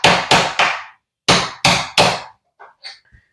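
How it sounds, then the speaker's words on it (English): Six sharp metallic taps of a small hammer on a punch driving out a door hinge pin, in two quick groups of three, close and loud, followed by a few lighter clinks and a soft knock. "we're going to get a small hammer and a punch"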